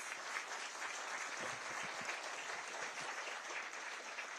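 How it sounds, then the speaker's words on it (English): An audience at a college event in New Delhi claps steadily to welcome a guest, a continuous soft wash of applause heard from a distance and even throughout. "Let us again welcome him with a warm round of applause."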